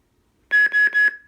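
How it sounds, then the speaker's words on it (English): Electronic beeps from a custom lightsaber hilt: three quick, loud tones in a row, the last trailing off into a short fading ring, with no speech. "It's gonna beep."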